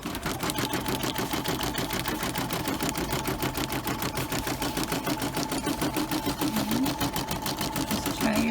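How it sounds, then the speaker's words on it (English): A home embroidery machine runs an appliqué stitch on a cheap fleece throw, giving a steady, fast mechanical needle clatter that keeps up evenly throughout at close range, with no talking. "we're going to run this stitch one more time. This is stitch number 10."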